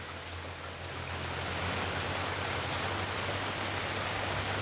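Steady rain falls and patters on surfaces, a soft continuous wash of noise with no voices.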